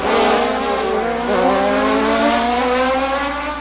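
Race cars at full speed during the 1990 Toronto Toyota Atlantic Championship street race, with Reynard-chassis cars running nose to tail, their loud, high engine wail sweeping and shifting pitch continuously.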